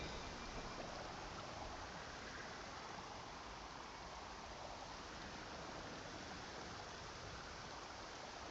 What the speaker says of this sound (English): I'm used to the rain